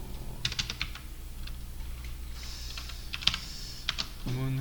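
Code being typed on a computer keyboard, a quick irregular run of light key clicks at close range, fairly quiet, with a brief tonal sound near the end.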